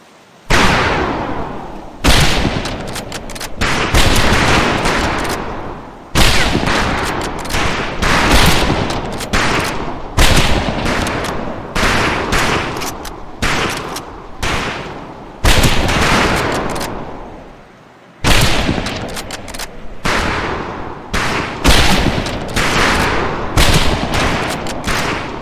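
Rifle fire on a shooting range in the video game Medal of Honor: Pacific Assault, loud, rapid overlapping shots from several shooters in dense bursts with brief pauses, echoing continuously.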